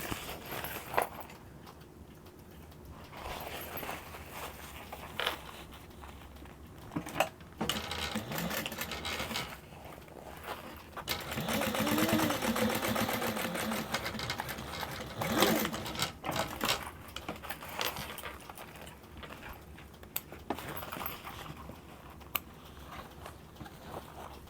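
A sewing machine stitches the lining side of a fully lined mini backpack, running in bursts of rapid mechanical chatter with short pauses and a longer sustained run in the middle.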